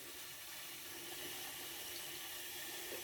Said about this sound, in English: Water comes in.